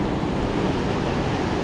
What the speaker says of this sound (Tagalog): Lakas yung alon dito mga master.